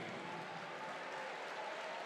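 A basketball arena crowd at a UCLA Bruins versus Michigan Wolverines men's game, a steady, broad roar of cheering and noise filling the whole stretch without a break.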